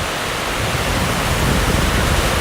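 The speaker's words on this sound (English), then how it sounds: "And I'm sure y'all can hear the rain beating on the roof outside." Heavy rain from Hurricane Delta pounds steadily on a house roof, a loud, dense, unbroken roar of drumming water that fills the whole stretch with no voices.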